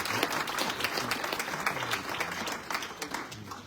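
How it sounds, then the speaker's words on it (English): An audience at an in-person town hall applauds steadily, a dense wash of many hands clapping at moderate distance, with a faint voice underneath. "Let's give a round of applause."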